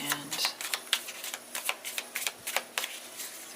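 A deck of tarot cards being shuffled by hand, giving quiet, rapid riffling clicks and soft flutters in an irregular run.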